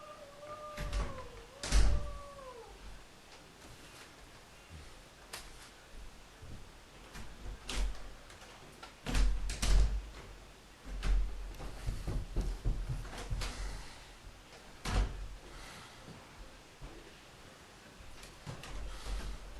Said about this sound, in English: Why are they slamming doors?